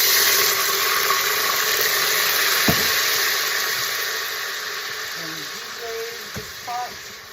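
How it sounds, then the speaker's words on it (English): Chicken stock splashes into a hot pan that has just been turned off, setting off a broad steady sizzle and hiss that slowly fades, with a couple of brief clunks and a voice speaking underneath. "we're going to add a little splash of chicken stock"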